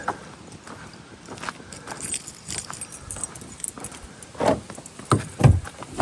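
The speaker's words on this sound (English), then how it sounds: "Just want to make sure I got my keys." A bunch of keys jangles and rattles on a walk at Rib Mountain State Park, with scattered metallic clinks that grow louder and more clustered toward the end. Outdoor background, no talking.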